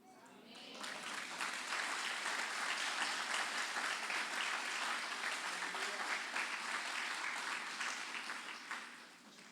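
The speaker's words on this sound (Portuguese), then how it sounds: "eu gostaria que você desse um aplausozinho" A church congregation applauds during a Sunday celebration service, steady sustained clapping from a crowd that swells quickly, holds evenly for several seconds, then tapers off near the end.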